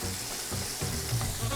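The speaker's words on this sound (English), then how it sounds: "let me turn him over because that's really going to be a quick sear" Tilapia fillet searing in a hot pan, a steady close sizzle with faint crackle running through the short stretch, no voices.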